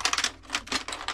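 Typing on a cheap, yellowed Chicony AT computer keyboard, connected to an old IBM AT 5170, gives quick bursts of loud, clattery keystrokes in several short runs separated by brief pauses.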